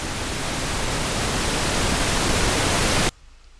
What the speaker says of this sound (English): If you have a pink noise sweep,